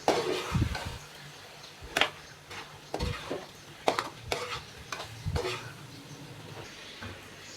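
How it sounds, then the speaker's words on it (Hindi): Chicken being stir-fried in spice masala for biryani, with a soft sizzle underneath and intermittent scraping and clacking of a spoon against the pot every second or so, close and moderately quiet. "यहाँ पे हम चिकन को भून लेंगे मसाले के अंदर तकरीबन 3 से 4 मिनट के लिए"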